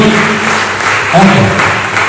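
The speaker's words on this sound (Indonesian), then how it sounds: "Tepuk tangan" Applause from an audience at a church family gathering in Nabire, a short burst of steady clapping that fills the room, with a voice faintly underneath.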